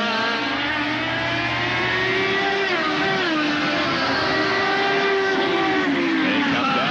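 IndyCar race cars at the 2010 Honda Indy 200 coming off the 13th corner, a loud sustained high engine whine with pitch rising and falling as the cars pass, under steady track noise.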